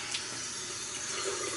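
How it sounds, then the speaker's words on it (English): Tap water runs steadily into a sink for a short moment, a soft, even hiss of flowing water with no voices over it. "So I'm gonna run a little water."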